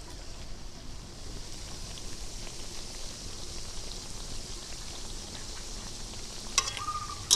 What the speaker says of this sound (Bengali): হালকা আঁচে ধীরে ধীরে ওগুলো ভাজা হবে তাহলে এগুলো ভিতর থেকে খুব সুন্দর ভাজা হবে